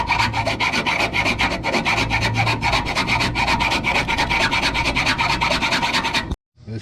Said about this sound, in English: You want to file those holes until it can move smoothly.